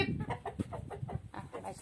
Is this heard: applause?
no